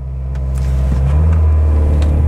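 A Mercedes-Benz GLB 200 in Comfort mode pulls away from a standstill, its engine drone building steadily and loud from inside the cabin, with no talk.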